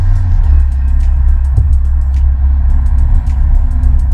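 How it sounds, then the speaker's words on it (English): A Fiat 124 Spider drives with its top down, giving a steady loud rumble of engine and road noise with wind buffeting throughout, and no talk. "there's going to be more noise right now because I'm driving topless here."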